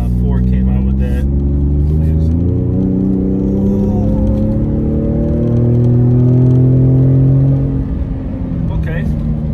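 The engine of a 2020 Ford Raptor truck with 450 horsepower and a 10-speed automatic transmission hums and rises through gears while driving, a steady close rumble that swells and eases, with a voice talking over it.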